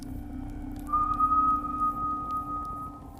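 A single long, thin whistle rising slightly then holding steady, heard faintly from nearby beside a campsite tent at night over a low hum, with no voices.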